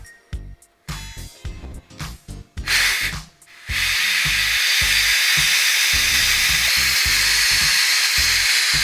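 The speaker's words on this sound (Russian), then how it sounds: "Ну что, спускаем финально наш пар. Роняем давление." A multicooker releases pressure after cooking plov with rice. A few clicks and rubbing knocks lead to a sudden loud, steady hiss of escaping steam that continues strongly to the end.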